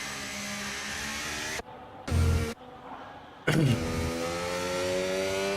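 A Formula 1 car during Spanish pre-season testing screams along the track, its engine pitch sweeping through a brief lift-off and short sharp bursts before a loud, sustained, rising acceleration that stays clear and close.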